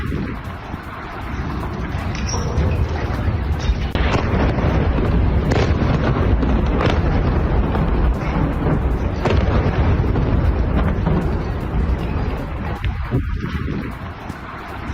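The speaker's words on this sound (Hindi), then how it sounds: "आईआरजीसी कॉम्प्लेक्स में विध्वंसक बमबारी" Air strike bombing on an IRGC complex in Iran, heard as a sustained, loud roar of blasts and rumbling with wind-like noise, continuous throughout with sharper bursts rising out of the din.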